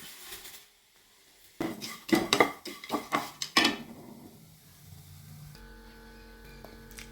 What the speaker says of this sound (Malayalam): ഇനി നമുക്ക് ആ ഓട്സും അവലും കൂടി ഇട്ട് കൊടുക്കാം.